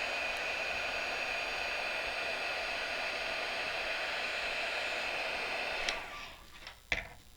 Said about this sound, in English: take your heat gun and we're going to melt that powder